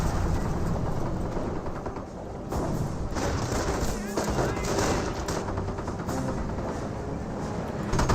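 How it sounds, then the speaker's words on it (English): Gunfire from a 50 caliber machine gun rattles through a Company of Heroes battle alongside tanks, dense rapid bursts and thuds mixed with other combat noise while a commentator talks over it. "That's where I keep on hearing all that 50 cal fire."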